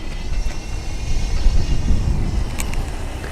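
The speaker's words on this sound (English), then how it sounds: "So this is a pretty smooth power chair." Permobil M3 power wheelchair driving at full speed, about 6.3 miles an hour, a continuous low motor hum and rolling rumble with light clicks, close and steady, no talking.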